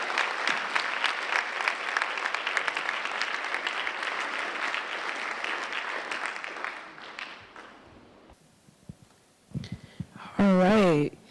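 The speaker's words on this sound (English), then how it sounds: "Let's give Bob Moritz a clap." A lecture audience at a leadership talk gives a sustained round of clapping that fades after about eight seconds, followed by a brief burst of speech at a moderate level.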